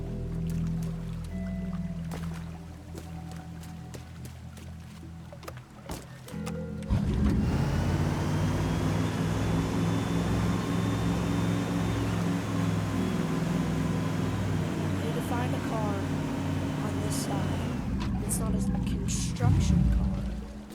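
A car in the destruction game Teardown starts up and drives, its engine droning and rumbling steadily for most of the stretch after a few seconds of lighter clunks, with someone talking over it throughout.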